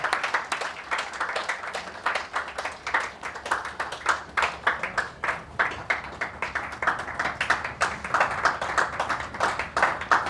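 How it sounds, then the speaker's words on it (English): Audience applause at a book award ceremony, a moderately sized crowd clapping steadily and fairly loudly throughout, with rapid individual claps standing out and no pause in the ovation. "Can we have a huge round of applause for Dr. Sunil Chhaya?"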